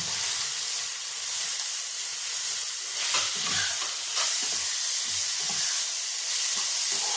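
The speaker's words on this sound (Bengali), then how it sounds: "এবার আমি এর মধ্যে দিয়ে দিচ্ছি রসুন বাটা।" Garlic and small cardamom paste, ground with a little water, hits hot oil in a pan for chicken liver curry, giving a close, steady sizzle and hiss with a few sharper spits and stirring bursts.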